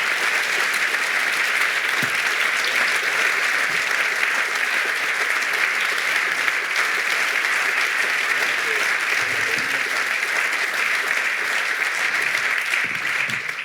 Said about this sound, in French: Donc, on peut vous applaudir encore une fois, M. Fouad Ben Saoud, président du club.